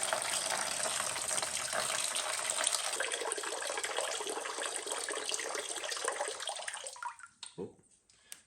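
Water gushes loudly and steadily from the radiator drain of an antique tractor, splashing for about seven seconds before tapering off to trickles and drips.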